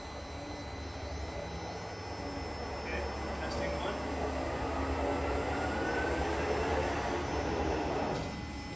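Electric truck motors spin on a test, giving a steady, droning mechanical whine and hum that swells slightly in the middle and holds throughout, heard fairly close.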